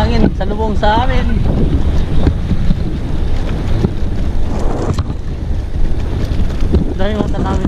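Strong wind buffets the microphone in a steady roar on a high, exposed ride in the back of a vehicle, with people talking over it throughout.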